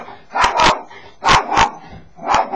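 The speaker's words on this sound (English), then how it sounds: "excuse me for the dog" A dog barks in three separate bursts, each a quick double bark, close and fairly loud with short quiet gaps between them.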